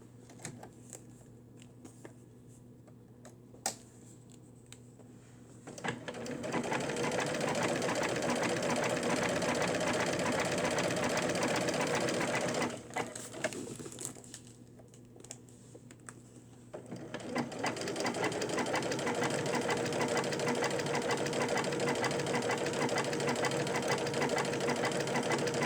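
A sewing machine stitches a stretch-stitch hem on doll clothing in two sustained bursts of rapid, even mechanical whirring, with a short pause between them and quiet room tone before and after.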